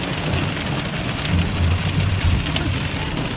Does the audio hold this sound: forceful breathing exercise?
no